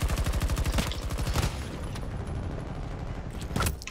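Rapid bursts of gunfire ring out in Battlefield 2042, a fast, loud volley of evenly spaced shots at the start followed by scattered, more distant reports and a final cluster of blasts.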